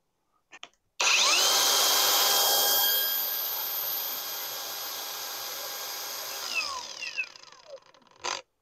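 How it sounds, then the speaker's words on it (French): A battery-powered angle grinder spins up sharply after a couple of clicks, holds a steady high-pitched whine for several seconds, then winds down with a falling tone and a final short rattle. "et on va démarrer la meuleuse."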